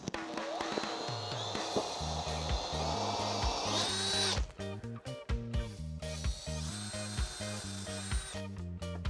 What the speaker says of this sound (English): I only have one impact driver, so I end up having to use a drill.